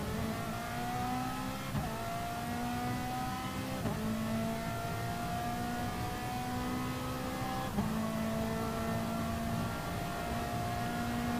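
Ferrari GT race car engine in a GTC-1 racing video game, revving high and steady with several upshifts where the pitch drops and climbs again, loud and continuous throughout.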